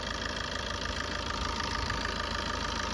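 A 2014 Maruti Suzuki Ertiga ZDI diesel engine idling, a steady, even mid-pitched drone with a faint knock that holds close and unbroken throughout, with no voices.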